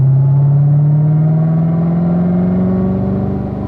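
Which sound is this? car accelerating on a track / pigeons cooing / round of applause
car accelerating on a track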